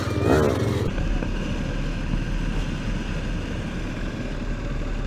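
An enduro dirt bike runs with a continuous buzzing engine drone at moderate distance, with a louder burst at the very start, then a steady rumble that holds without clear pauses.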